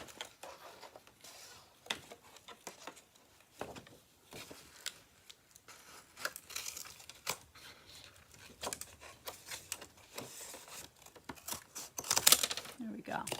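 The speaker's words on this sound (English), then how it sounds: "Get my bigger scissors out for this job." Large scissors cut through paper while a simple journal is made, giving a series of quiet, irregular snips and crinkles spread across the stretch.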